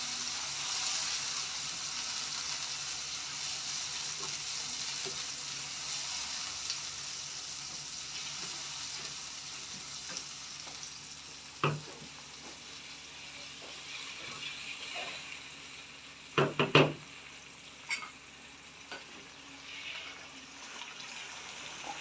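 Garlic, ginger and tomato paste frying in a pan for boneless chicken handi: a steady, even hiss runs throughout, broken by a few light clinks near the middle and a brief cluster of sharper knocks toward the end, with no talking.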